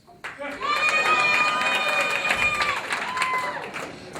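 Comedy club crowd at a 2010 Dallas comedy night bursting into sustained applause and cheering, a dense wash of clapping with whoops and shouts that swells quickly and holds loud throughout.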